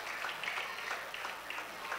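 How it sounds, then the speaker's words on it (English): Congregation clapping at a church morning devotion, a steady, fairly faint patter of many hands that swells and eases without voices over it. "They are clapping for you already."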